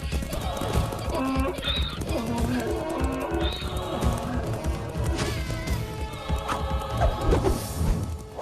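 Donkeys braying and clopping in an animated story of the demon Dhenukasura, with hoofbeats, whinny-like calls and crashes layered over music and voices through the whole stretch.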